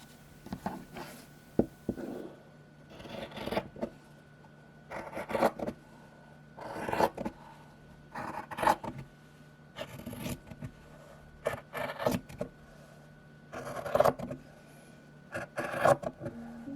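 Scissors cut skirt fabric in short, quiet bursts of snipping and rasping, roughly a dozen separate passes at a close, even pace with small pauses between them.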